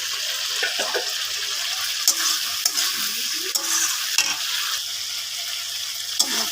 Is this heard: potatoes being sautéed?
yes